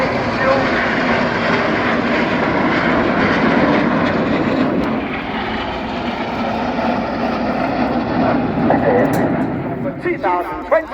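Display jets roar overhead at the Royal International Air Tattoo, running on synthetic aviation fuel. A loud, sustained engine rush swells and slowly fades, and a voice talks over it throughout.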